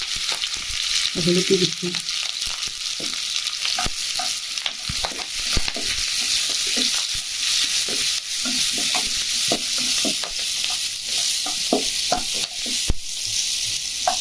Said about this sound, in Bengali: এবার তেল দিয়ে দিচ্ছি, আলুটা ভেজে নিই।